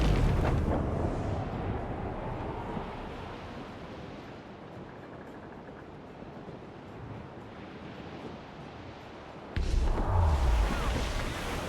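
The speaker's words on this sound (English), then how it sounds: "Captain, look, mortars!" Mortar explosions during a naval battle in the video game Assassin's Creed IV Black Flag: a loud roaring blast at the start fades into a wind-and-sea rush, then another sudden heavy boom hits near the end.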